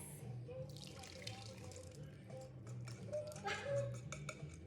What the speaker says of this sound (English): we are going to pour it into the dry ingredients, just like this